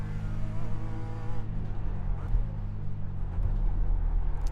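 BMW race car in an IMSA sportscar endurance racing video game, its exhaust droning loudly and continuously with a nasal, buzzy tone, shifting pitch as it accelerates, with occasional tire squeal.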